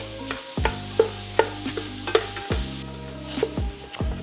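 Ground beef browning in a pan for dirty rice, sizzling steadily under close, repeated scrapes and knocks of a utensil stirring the meat, with no one speaking.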